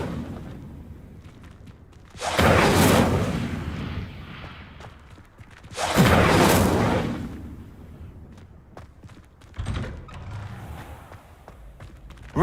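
Incendio fire spell cast in Hogwarts Legacy, heard as two loud whooshing fiery bursts, each lasting about a second, followed by a shorter, quieter burst near the end, with no talking.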